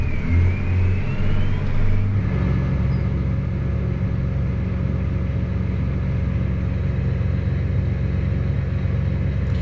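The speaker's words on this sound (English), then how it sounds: "I'm gonna start disking around, getting rid of all the excess weeds on the edge of the field" A tractor pulling a disc harrow through weeds at the edge of a field, its engine a steady close rumbling drone that shifts slightly in tone early on, then holds constant.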